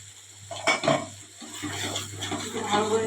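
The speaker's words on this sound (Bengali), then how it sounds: "ভালো করে নাড়তে হবে।" A spoon works through a thick masala spice paste with a little sugar and Kashmiri chilli powder in a pan for masala paneer, producing close scraping and light sizzling strokes over a low steady hum.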